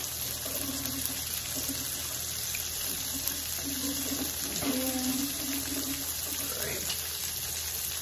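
Kitchen tap running as hands are washed partway through cooking ground beef, a steady broadband splashing flow with brief handling noises and faint background hum, no talk.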